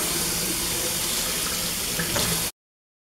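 Tap water running steadily into a tub while a Yorkie is bathed, a loud, constant gush that flows for about two and a half seconds and then cuts off abruptly into silence.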